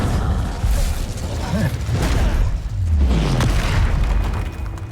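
Incendio fire spell cast in Hogwarts Legacy, a loud burst of roaring flame and booming impacts amid busy game combat noise, with a low rumbling whoosh near the end.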